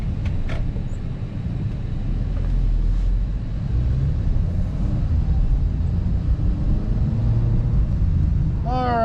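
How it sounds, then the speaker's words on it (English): A Mercedes A220 4MATIC drives along, its engine and road noise forming a steady low rumble inside the cabin, with a few brief clicks near the start and a faint voice at the end. "driving the A220 4MATIC"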